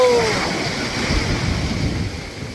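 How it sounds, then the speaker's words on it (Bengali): Big sea waves wash in at Cox's Bazar beach, a broad, close surf roar that surges and eases, with wind buffeting the microphone. "সেই ঢেউ, সেই ঢেউ, কত বড় ঢেউ"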